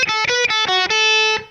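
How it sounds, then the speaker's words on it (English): A short distorted electric guitar phrase with each note separately picked, crisp attacks in a quick steady rhythm, ending on a sustained note that fades. "So you can hear I'm picking every note."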